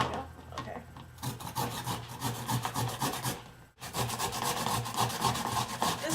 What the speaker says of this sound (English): I'm going to grate the red ones.